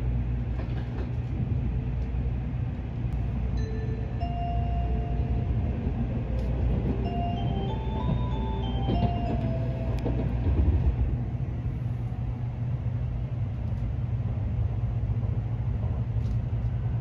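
A JR West Kodama Shinkansen pulls out of Kyoto station, a steady low rumble heard from inside the car, with a gentle rising electric motor whine and rhythmic track noise throughout.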